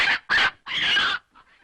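A chicken clucks in three quick, loud bursts, the last one longest, then trails off into two faint, soft clucks.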